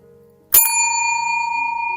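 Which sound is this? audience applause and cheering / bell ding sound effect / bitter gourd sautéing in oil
bell ding sound effect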